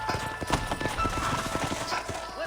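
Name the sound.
horse hooves in the video game Red Dead Redemption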